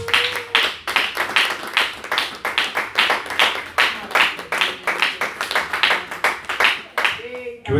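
A church congregation claps hands in rhythm during a service, brisk steady beats filling the space throughout, with a faint voice briefly at the end.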